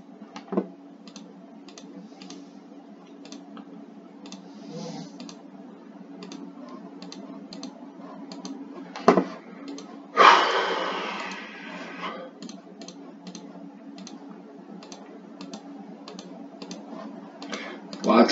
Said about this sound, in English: You're hearing mouse clicks all over the place.